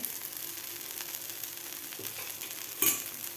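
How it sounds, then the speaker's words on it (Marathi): Cucumber thalipith pan-roasting in peanut oil, a steady close sizzle with a faint crackle and a brief scrape near the end, no voices. "आता व्यवस्थित एक मिनिटभर आपल्याला खालची बाजू भाजून घ्यायची आहे थालीपीठची"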